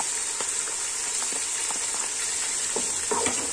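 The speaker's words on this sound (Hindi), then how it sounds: "अब हम इसमें लहसुन अदरक का पेस्ट डालेंगे," Garlic ginger paste with cumin and black pepper frying for chicken biryani, a loud continuous hiss of hot oil with scattered spatula scrapes and pops, close up and without voices.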